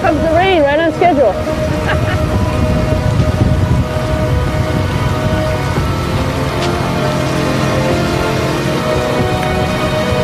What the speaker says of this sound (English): Here comes the rain, right on schedule.